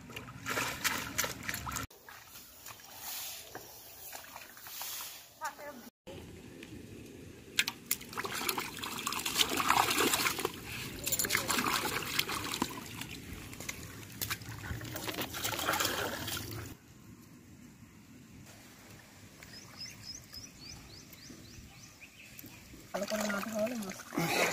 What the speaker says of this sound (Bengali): মাছ ধোয়াতে যত টাইম দেওয়া হবে তত মাছ পরিষ্কার হবে, ক্লিয়ার হবে।